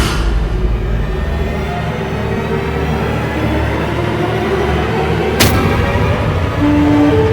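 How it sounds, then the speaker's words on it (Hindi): A loud film explosion in a Hindi mythological drama, heard as a sustained heavy rumbling roar with a sharp burst midway, dense and close, no talking. "ये विस्फोट"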